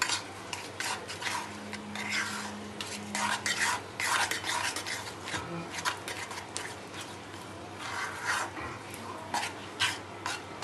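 Hot cashew dessert syrup, just taken off the stove, is mixed quickly in a pan. Rapid, irregular scraping and clinking of a utensil against the pan repeats in bursts, with a faint voice murmuring underneath.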